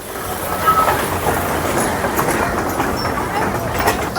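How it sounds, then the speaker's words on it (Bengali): A steady rumble and rhythmic clatter of a toy train rolling along its track around an amusement park, with faint voices in the background. "টয় ট্রেন করে গোটা পার্ক ঘোরাবে"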